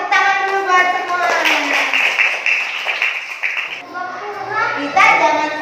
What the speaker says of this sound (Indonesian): Tepuk tangan dulu buat semua.